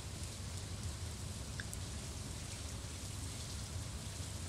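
Steady rain in Stardew Valley makes a constant, even hiss of falling drops. It stays fairly quiet and unchanging the whole time, with no voices.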